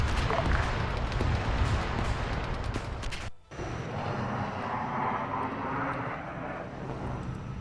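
Aircraft engine drone from a plane taxiing onto a runway in the military video game Arma 3, a steady loud roar with a brief dropout midway and distant gunfire in the mix.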